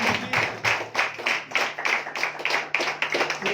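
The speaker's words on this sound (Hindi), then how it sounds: "ताली बजा के जोर से ताली बजा के जोर से" A church congregation claps together in a steady, loud rhythm of sharp, evenly spaced beats, with no voices over it.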